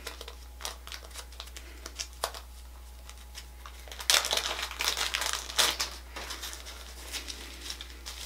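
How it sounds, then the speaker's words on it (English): Latex gloves being pulled on for a foam hair color root touch-up, heard as close crinkling and rustling that grows denser in the middle, with light patters around it and no talking. "And then you just put on your gloves."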